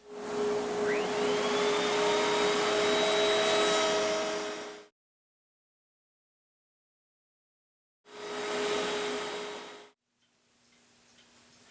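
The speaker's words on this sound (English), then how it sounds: "I think I'm through with the router" A handheld wood router rounds over the edges of mantel clock parts, its motor whining up into a loud, close roar for about five seconds, falling silent, then running in a shorter second burst before fading to a faint hum.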